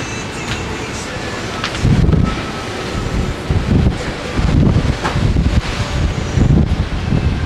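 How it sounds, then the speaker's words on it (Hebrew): Strong wind buffets the microphone in rough, roaring gusts that swell and ease over a constant rushing background, heard from a room overlooking a stormy sea. "חוץ מהרוח שחזקה משום המזג האוויר סוער לים"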